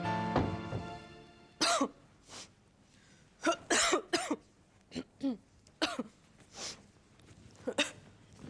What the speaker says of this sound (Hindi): ये खांसी कब से चल रही है?